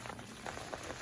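Rainwater gushing from the outlet of a 250-gallon plastic tote during a rainstorm, a steady close splashing and bubbling stream without speech.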